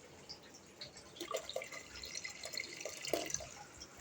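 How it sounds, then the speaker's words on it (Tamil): Tamarind water pours and trickles softly into a pot of fish curry, with small splashes and drips, faint and close, no talking. "தண்ணி சேர்த்தாச்சு, புளி தண்ணி சேர்த்துக்கலாம்."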